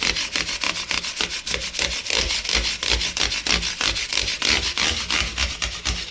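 Guitar frets are sanded lightly with 400 grit abrasive in quick, steady back-and-forth rubbing strokes, close and continuous, with no voices.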